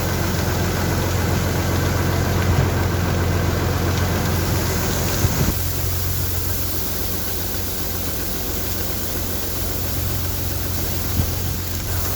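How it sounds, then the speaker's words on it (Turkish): Steady, loud engine drone of a combine harvester unloading wheat at harvest, with a noisy mechanical hum that shifts slightly partway through and continues without speech. "Şu an evet ekini boşaltıyoruz Rambo."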